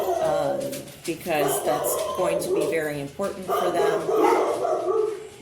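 Dogs bark in a house, heard beneath a continuous stretch of close-up talking that fills most of the clip.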